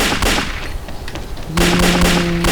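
Loud gunshots crack in the video game Xshot, several sharp reports in a short span, with a steady tonal hum coming in partway through.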